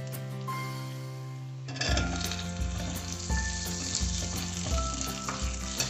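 Garlic and onion fry in hot oil for chilli gobhi, a quiet hum giving way to a sudden, steady sizzle with periodic stirring scrapes, close and alone.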